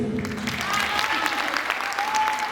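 Applause from a concert audience at a variety and theatre studio show, a steady, moderately loud patter of many hands throughout, with a faint voice and a soft sustained tone sitting underneath.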